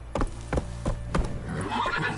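Roach, a horse in The Witcher 3, gallops with a rhythmic series of heavy hoof thuds and lets out a whinny toward the end, all close and clear.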